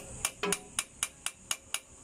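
Seven sharp metallic hammer strikes on a car radiator pulley ring out in a quick, fairly even rhythm, each with a bright clanging tone, close and clear.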